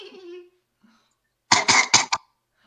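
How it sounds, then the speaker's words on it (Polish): A brief vocal sound, then a short burst of three or four rough, hacking smoker's coughs close to the microphone. "Typowy kaszel palacza, jestem pewien."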